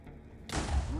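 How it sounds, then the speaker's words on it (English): Explosions in Minecraft, with a sudden broadband blast that bursts in midway through and rumbles on loudly to the end, following a quieter stretch. "Ah! Explosions."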